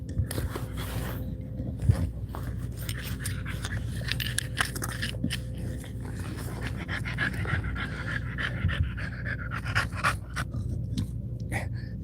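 Dogs panting steadily and close on a morning at home, a continuous rapid breathing over low background noise, with occasional scrapes and small mouth sounds and no talk.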